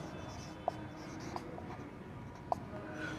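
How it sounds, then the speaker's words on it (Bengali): Quiet handwriting for a Class 9 geometry construction, faint pen scratches on paper with a couple of sharp taps as points are marked, close and sparse. "আমি লিখে দিচ্ছি।"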